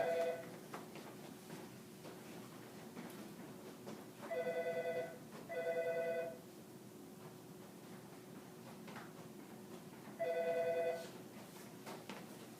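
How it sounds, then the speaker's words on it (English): An incoming call rings on a telephone in a quiet room, four electronic ring bursts repeating at steady intervals, faint against a low hum. "I'm going to ignore that phone call."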